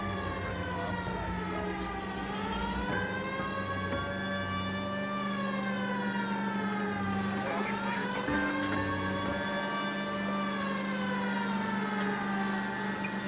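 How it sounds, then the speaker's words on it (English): Police car siren in the 1940s Los Angeles crime game L.A. Noire, wailing continuously in rising and falling sweeps over a low engine drone, loud and close throughout. "Guess I can go ahead and turn off my siren."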